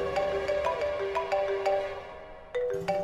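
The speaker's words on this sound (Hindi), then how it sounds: "किसका फोन है?" A phone ringtone plays a repeating electronic melody, clear and fairly close, with no talking.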